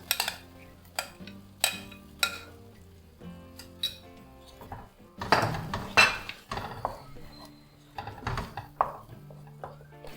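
Onion and tomato paste being sautéed for butter chicken: a spoon scrapes and clanks repeatedly against the pan in uneven bursts, close and fairly loud, with a faint sizzle under the metal knocks and no talking.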